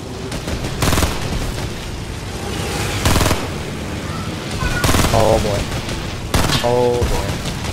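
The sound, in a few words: gunfire in Fortnite video game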